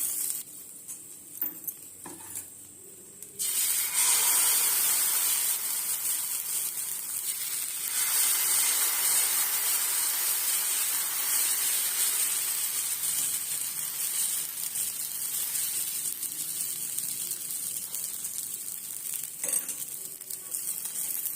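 Pearl millet dosa batter sizzles on a buttered hot pan, a bright steady hiss that jumps in after a few quiet seconds and carries on with small clinks of utensils.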